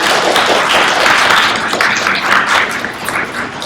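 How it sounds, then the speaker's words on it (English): A conference audience applauds steadily, a dense wash of many hands clapping at fairly constant loudness that tapers slightly near the end. "Big round of applause for that."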